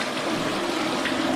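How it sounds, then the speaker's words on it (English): A toilet flushing a plant down, a steady rushing gush of water close by, continuous through the whole moment with no voices. "Flushing a plant down the fucking toilet."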